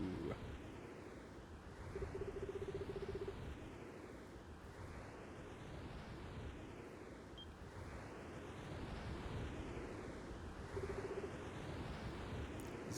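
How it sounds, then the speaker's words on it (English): Wind in the video game Eggplant the Wanderer blows as a low, steady rushing gust that swells and eases slightly, with faint electronic chirps now and then and no voices. "What's up with this wind all of a sudden?"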